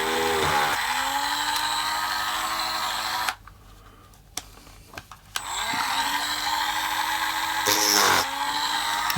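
A small drill boring a 1.7 mm hole in a coupling rod for a DJH 2MT 2-6-0 locomotive kit: a steady high motor whine close up, cutting off for a couple of seconds, then running again.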